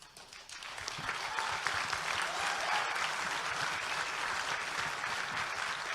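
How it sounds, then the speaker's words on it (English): Studio audience at a talk by Dennis Prager on socialism bursts into sustained applause, swelling within the first second and holding steady, dense and even, with no voices over it. "It says a lot for you that you applauded that line"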